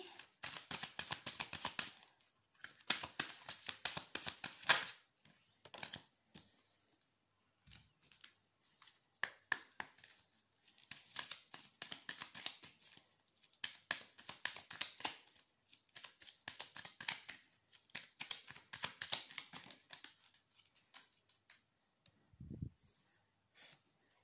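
Tarot cards shuffled by hand for a card reading, a crisp papery riffling that comes in repeated bursts over about twenty seconds, with short pauses between bursts and a few soft thumps.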